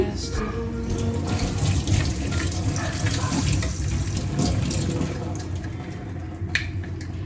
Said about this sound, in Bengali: দাঁড়ান আগে একটু ধুয়ে নিয়ে